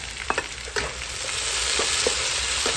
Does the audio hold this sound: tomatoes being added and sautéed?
yes